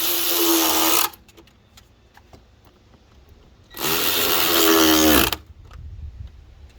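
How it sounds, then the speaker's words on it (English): Two long bursts of a power tool, likely a driver, tighten the 10mm hose clamps on a Honda Accord 2.4L intake tube. Each burst runs about a second, close and loud, with quiet handling noises in the gap between them. "Secure the two 10mm hose clamps."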